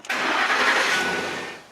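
A pickup truck with about 80,000 miles cranks and fires up nearby, the engine catching at once and settling from a loud, broad roar into a fading steady run.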